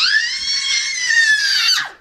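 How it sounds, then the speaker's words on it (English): A baby's sustained high-pitched scream, loud and close, holding steady for about two seconds before dropping off abruptly. "why are you screaming?"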